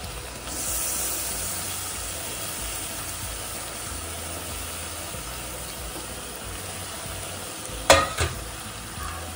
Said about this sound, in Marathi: इथं आपण कांदा टोमॅटो मध्ये परतवून घेऊया.